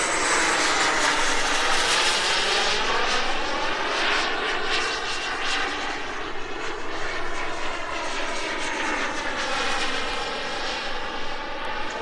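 A Sebart Mini Avanti turbine RC jet makes a straight pass: a loud, sustained turbine whine that swells and shifts in pitch as the model flies by, with no voices.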